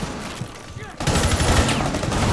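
Automatic rifle fire in Rainbow Six Siege, a quieter pause, then a loud sustained burst of rapid shots kicking in about a second in and rattling steadily to the end, while someone talks over it.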